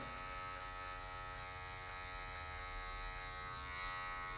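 An electric hair clipper buzzes steadily close by as it cuts a low guide line with a zero guard, a continuous even hum with a slight shift near the end.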